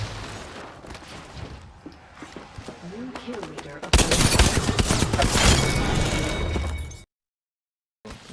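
EVA-8 shotgun shots in a video game, loud rapid blasts that pile up in a dense burst midway before cutting to silence, with a person talking over the earlier action.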